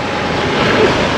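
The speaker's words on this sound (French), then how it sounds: "il y a que le bruit du moteur" A boat motor at sea off Koh Samui, Thailand, produces a steady, loud broadband roar mixed with wind and water rush, with no pauses over a brief moment.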